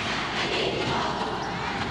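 A college basketball crowd from UE chants its a cappella cheer in the background of the game, a steady, dense wash of massed voices that holds at an even loudness throughout.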